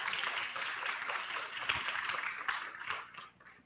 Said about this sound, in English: I want to give a round of applause for everyone on the panel.